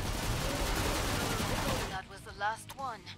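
Sustained rapid gunfire from the video game Killing Floor 2 roars loudly for about two seconds, then cuts off as voices talk over a quieter background.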